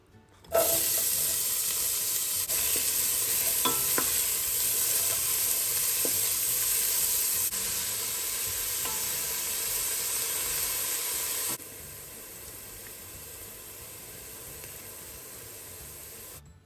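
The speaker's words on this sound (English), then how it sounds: "So that was one big onion and I sauteed it until it was translucent" One big onion sautéing in oil in a pot for homemade tomato sauce, giving a steady loud sizzle throughout that eases slightly partway through, with faint stirring scrapes and no talking.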